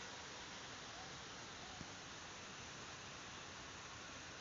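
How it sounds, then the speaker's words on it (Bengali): Heavy rain falling in a sudden shower under a sunny sky, a dense, steady hiss of noise with no breaks, continuous and even throughout. "এত জোরে বৃষ্টি হইতেছে"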